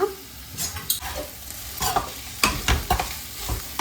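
Okra stirred in a pan with chilli powder, turmeric and salt: close scraping spoon strokes come in irregular bursts over a soft, steady sizzle, with no voices.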